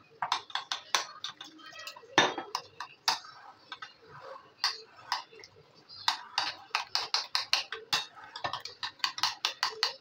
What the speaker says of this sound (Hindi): देखें इसका बैटर बना देते हैं थिक सा।